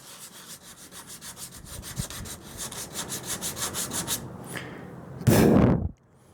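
Bondo body filler on a 1929 Chrysler is sanded with 80 grit sandpaper, giving a rhythmic series of close, rasping back-and-forth strokes that grow brisker, then a short harsh burst before stopping.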